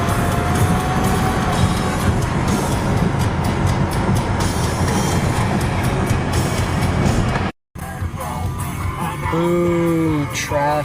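Dense road traffic is heard from inside a moving car on a trip to Maryland, a loud continuous roar of tyres and engines that cuts out briefly, then returns with a tonal horn-like sound near the end.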